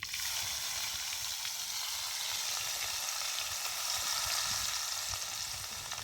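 Mustard seeds, cumin, asafoetida and crushed garlic fry in hot oil for a tempering, giving a continuous close sizzle with fine crackles throughout.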